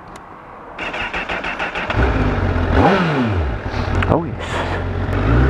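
A Honda CB1000RR Fireblade superbike fires up close by: starter cranking, then the engine catches and settles into a loud idle with sharp throttle blips rising and falling, with a brief spoken exclamation over it.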